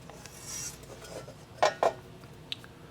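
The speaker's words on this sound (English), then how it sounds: "flip your rack upside down while holding the screws in" A metal car amplifier rack and its screws are handled during assembly, giving a few quiet metallic clinks and clacks, two of them close together, over low background noise.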